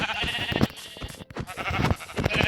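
Repeated Minecraft sheep bleats, loud and close, sounding a few times in quick succession with a brief gap midway.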